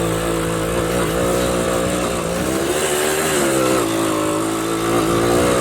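Small 90cc two-stroke engine of a 1970 Kawasaki Bushmaster motorcycle running steadily at a smooth idle, a continuous buzzing drone with slight pitch wavers, close and loud, with no one talking.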